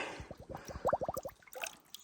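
Spring water trickling at Oak Spring on the Arizona Trail, a close run of quick, bright drips and plinks in an uneven rhythm, faint and alone.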